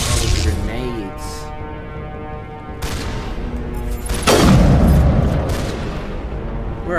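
Grenade blasts in the Mass Effect video game: two sharp, heavy explosions a few seconds apart, the second louder and booming, with gunfire crackle and a ringing tone around them.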